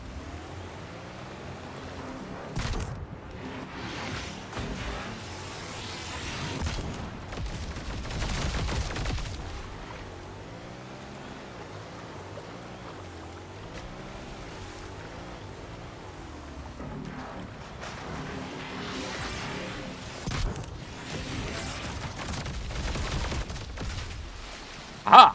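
Battleship cannon fire in the Trailmakers building game, sounding as scattered booming blasts and volleys over a steady rumble of engine and water noise, with a sharp loud shot at the very end.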